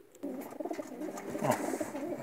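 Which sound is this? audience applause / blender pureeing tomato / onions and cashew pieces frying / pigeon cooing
pigeon cooing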